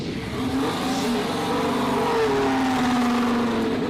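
Race car engine at a steady high drone with a pitch that climbs and holds, loud and continuous throughout, no talk over it.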